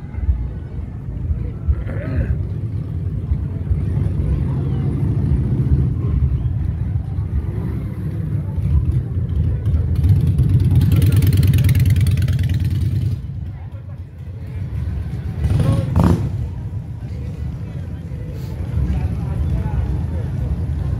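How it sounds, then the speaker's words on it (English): Harley-Davidson motorcycles at a Harley owners' weekend in Cascais, Portugal, with a steady low engine rumble throughout and a louder rev swelling near the middle, under ongoing crowd chatter and voices. "As you can see, you've got loads of motorcycles."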